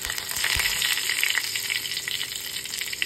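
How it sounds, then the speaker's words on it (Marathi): Mustard seeds, garlic and curry leaves crackle and sizzle in hot oil for kokam curry tempering, a dense continuous spatter of sharp pops over a steady hiss, close and fairly loud, with no talk. "आपली फोडणी छान अशी तडतडली पाहिजे"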